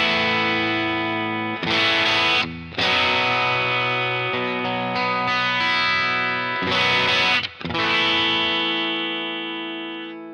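Electric guitar played through an EarthQuaker Devices Plumes overdrive set to low gain rings out in sustained, clear chords with a few fresh strums, each left to ring and slowly fade, alone without talk.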